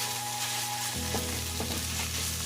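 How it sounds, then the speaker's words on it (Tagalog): Ground pork sautéing in a pan without added water gives a steady, dense sizzle throughout, with a few stirring scrapes, no voices heard. "Ginigisa ko lang siya guys na hindi po ako naglalagay dito ng water para palambutin yung ating meat."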